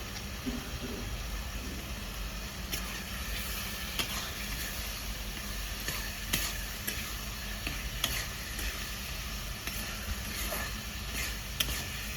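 Chopped tomatoes hit a hot pan for restaurant-style chicken darbari, giving a steady, broad sizzle that runs throughout with scattered ticks and clinks of stirring.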